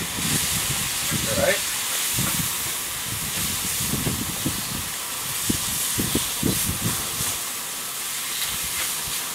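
Ground meat for tacos browning in a hot pan makes a steady hiss and crackle, with bursts of sputtering as it cooks and someone talking briefly over it.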